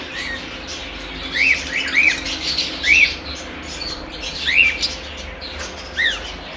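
Caged jumbo-size lovebirds give short, sharp chirps, about five spaced calls over a low room hum, moderately close with a faint flutter of wings.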